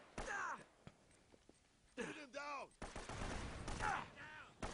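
Rapid gunfire in the video game Uncharted, several bursts of shots with thuds and a groaning voice, heard faintly against quiet stretches.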